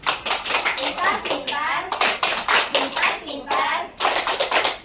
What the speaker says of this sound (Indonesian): Tepuk pintar